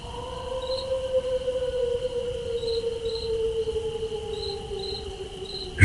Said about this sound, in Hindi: चारों ओर सिर्फ झिंगुरों की आवाज